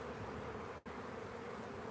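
Honeybees hum in a steady, close drone around an open backyard hive during inspection, with one very brief dropout midway.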